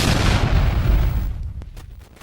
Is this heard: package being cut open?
no